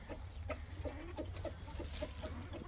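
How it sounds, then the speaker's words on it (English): A rooster and chickens in a backyard coop in Mexico give a run of short, repeated clucks at moderate distance over a steady low background hum. "Look at the rooster over there."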